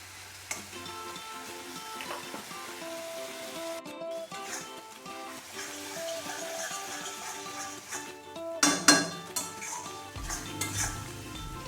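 Dry spice masala stirred with water in a pan, a spoon scraping and clinking against metal with soft sizzling and a few sharper knocks, quiet overall.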